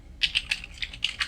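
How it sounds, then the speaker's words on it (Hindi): About eight quick keystrokes on a computer keyboard as Notepad is typed into a Windows Run box, crisp, close clicks in an uneven rhythm with no voices. "तो यहाँ पे रन ओपन में लिखेंगे नोटपैड"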